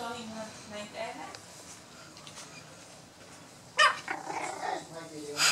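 Miniature Schnauzer puppies, salt-and-pepper colour, bark and yip in short bursts, loudest near the end, with people talking throughout.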